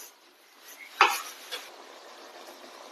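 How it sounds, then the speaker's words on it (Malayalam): A spoon scrapes and clinks once sharply inside a pot of cut mango pickle, followed by a softer second stir, close up against a quiet background with no talk. "നന്നായി ഇളക്കി കൊടുക്കുക."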